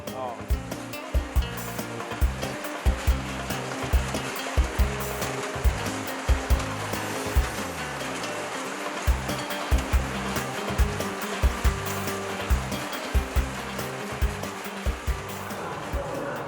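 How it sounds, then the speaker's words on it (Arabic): A citrus drying machine at a fruit packing station for export roars with a loud, constant blowing rush, while rhythmic mechanical thumps repeat about every half second throughout. "ده المجفف لحد الاخر هنا"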